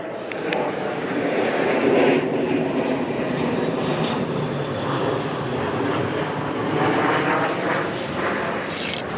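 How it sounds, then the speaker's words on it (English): An airplane drones overhead with a steady, broad roar heard outdoors on a hiking trail, swelling slightly and fading without any voices. "A lot of airplanes flying over us today."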